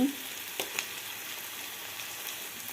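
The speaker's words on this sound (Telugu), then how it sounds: "ఉల్లిపాయలు గోల్డెన్ కలర్లో వేయించుకోవాలి" Chopped onions fry softly in a pan on their way to golden, a faint, even sizzle with a couple of small clicks, no voices.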